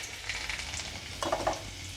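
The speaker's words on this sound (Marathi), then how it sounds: "तेल गरम झालं आहे. आता यामध्ये थोडा लसूण टाकू." Garlic sizzles in hot oil in a kadhai, a close, steady crackling hiss that briefly flares louder near the end as it fries.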